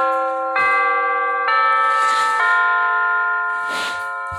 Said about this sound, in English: Hampton Bay wireless battery operated doorbell